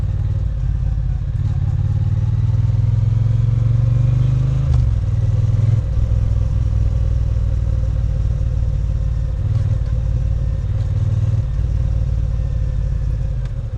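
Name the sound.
motorcycle exhaust sound while riding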